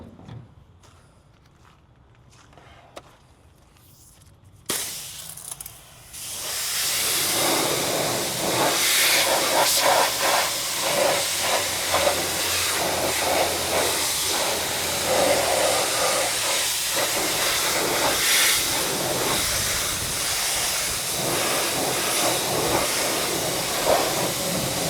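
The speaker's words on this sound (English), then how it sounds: "let's rinse that off and see how we did." Water spray rinses cleaner off filthy truck wheels. After a few seconds of quiet handling noises, a loud, steady hiss of spraying water starts and continues unbroken.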